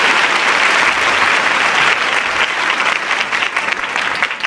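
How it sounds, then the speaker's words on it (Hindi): Loud, dense applause from a gathered audience welcoming an education minister at a ceremony, sustained and even, tapering slightly toward the end. "आप सभी तालियां बजाकर उनका स्वागत कीजिए"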